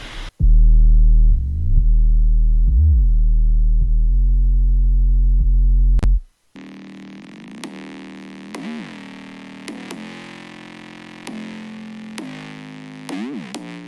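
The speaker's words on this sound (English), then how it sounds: "So right here I have just the basic 808, and then on top of it a distortion layer." A clean, deep 808 bass plays a few sustained notes with pitch glides, then after a brief gap a buzzy distortion layer plays alone, brighter and thinner with sharp transients.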